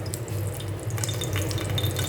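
Water runs and splashes into a pan holding tomato paste, a steady close pouring with faint sizzle and stirring clatter, with no talk.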